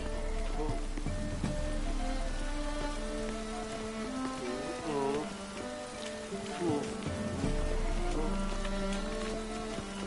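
Soft rain patters steadily in the background beneath a mellow musical score, the drops faint and continuous.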